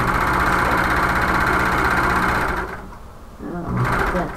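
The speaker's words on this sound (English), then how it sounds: "we anchor this by sewing back on the seam" A sewing machine stitching a bag lining runs in a loud, steady, close whirring hum, stops briefly, then starts again.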